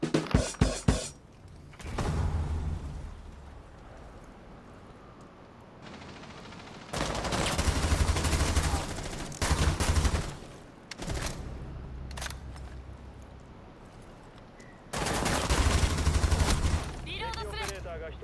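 Gunfire in Rainbow Six Siege on PS5: a few sharp opening shots, then several loud, sustained bursts of rapid automatic fire separated by quieter stretches of ambient game noise.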